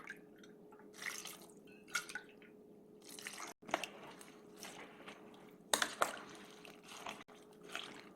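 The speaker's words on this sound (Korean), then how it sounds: "여기 물에다 대고 이렇게 조물조물해" A cloth pouch of seasonings squished and kneaded by hand in water for nabak kimchi, giving intermittent wet squelches and drips in short bursts, close and fairly quiet.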